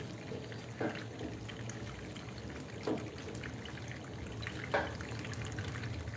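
Running tap water washing tomatoes in a kitchen sink, a steady low hiss of flowing water with a few soft splashy knocks at intervals, quiet and continuous.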